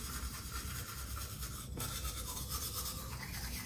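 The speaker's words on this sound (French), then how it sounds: "tamponner la brosse à dents de poudre blanche et vous vous lavez les dents" A toothbrush scrubbing teeth with white tooth powder makes steady close-up scratchy brushing strokes. The rasping runs continuously and alone, with a brief pause partway through.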